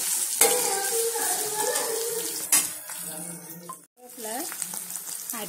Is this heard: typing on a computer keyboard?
no